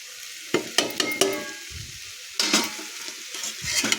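Carrots being stirred into frying vegetables in a pan, a few sharp scraping strokes of a spoon against the pan over a soft sizzle, close up, then a second burst of stirring; no talking.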